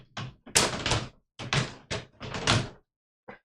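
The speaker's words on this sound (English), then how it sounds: "I just broke my drawers. It came off the hinge thing." Drawer coming off its hinge, a burst of loud clattering thumps and scraping knocks in several close, uneven clusters over a few seconds, then one last small tap after a pause.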